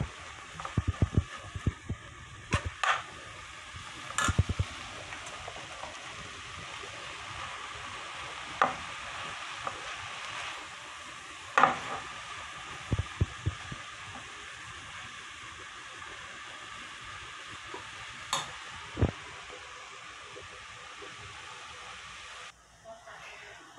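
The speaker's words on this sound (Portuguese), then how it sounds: "eu tô aqui com bacon fritando" Bacon sizzles steadily in a hot pan while cooking a feijoada, a constant crackling hiss broken by a few sharp clicks and scrapes of a utensil. No one speaks.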